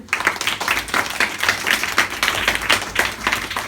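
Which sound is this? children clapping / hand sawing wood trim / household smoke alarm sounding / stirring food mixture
children clapping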